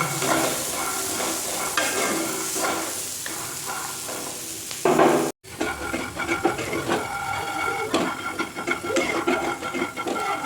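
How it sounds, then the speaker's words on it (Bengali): Chopped green chillies fry in hot oil until red, a steady close sizzle with stirring scrapes throughout, a brief cut of silence midway, then continued frying and stirring. "বেশ লাল লাল করে ভেজে নেব"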